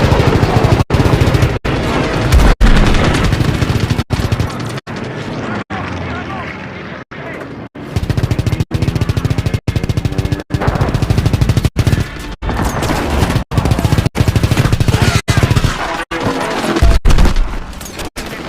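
Anti-aircraft guns pound in Call of Duty WW2, a loud, dense fusillade of rapid booming bursts broken by short regular gaps, with a voice shouting over the barrage.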